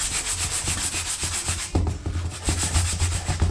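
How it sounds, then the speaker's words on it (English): A breaded chicken patty for a homemade McChicken is pressed and rubbed in dry breadcrumbs, giving a steady close gritty scraping with a few louder pats, no talking. "And now this goes into the breadcrumbs."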